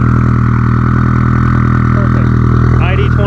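A BBR 700 engine idles steadily during break-in, a continuous low hum held at a fast idle around 1150 rpm, close and loud throughout while someone talks over it.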